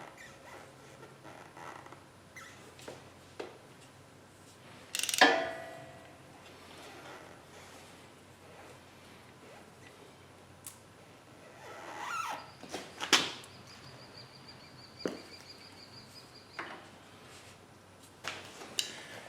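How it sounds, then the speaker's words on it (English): A hand ratchet works on the oil filter of a John Deere 5075E tractor, giving short bursts of quick clicking spaced apart between quieter rustling and handling noises. "So I'm going to grab my ratchet and do that."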